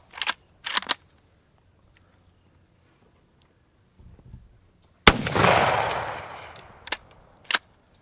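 A Mosin carbine rifle fires outdoors: a sharp, loud shot with a long rolling echo trailing off over about two seconds, followed later by a couple of quicker sharp cracks, with a few earlier short bangs at the start.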